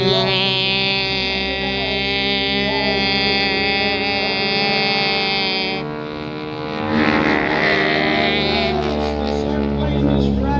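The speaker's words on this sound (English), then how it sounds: "This airplane is rather loud." Loud radial-engine airplane flying past at an Ocean City, New Jersey airshow, a steady heavy drone with strong harmonic tones that dips briefly midway then swells back, continuous and close, with no talk over it.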